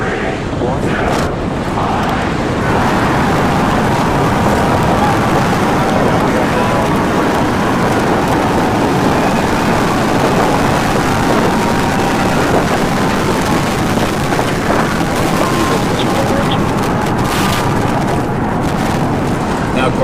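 SpaceX Starship rocket launch of Ship 28 and Booster 10, a continuous loud, rumbling, crackling roar that holds steady for the full stretch, dense and powerful with no pauses.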